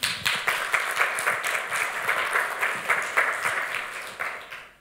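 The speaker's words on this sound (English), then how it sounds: "Please, round of applause." Audience applause at the end of a scientific lecture, a steady patter of many hands clapping that holds even and then fades out at the end, with no talking over it.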